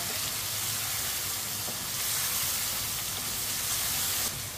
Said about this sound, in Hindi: इसी तरह चम्मच चलाते हुए फ्राई करना है।